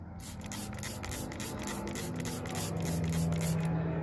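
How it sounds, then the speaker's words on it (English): Quick repeated spray bursts of undiluted cleaner onto a dirty McCulloch Model 73 chainsaw hiss in a steady rhythm, close and fairly faint, over a low background hum. "So get started on the spraying."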